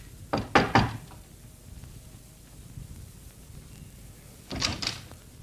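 Knocks land on a door in a 1952 radio drama, first a loud cluster of three or four raps, then a pause with faint room sound, then a second burst of knocking near the end.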